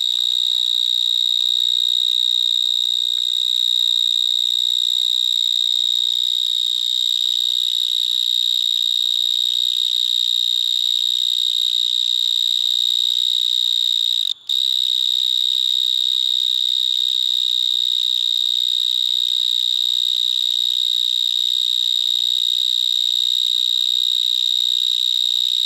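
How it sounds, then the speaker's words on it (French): Vineyard mole cricket singing at dusk in vineyards in Gironde, France, a continuous loud, pure high-pitched buzzing trill held steadily without pause, close to the recorder, over a quiet background. "elles mettent le cul en arrière, ces courtilières, et elles font un bruit extrêmement fort"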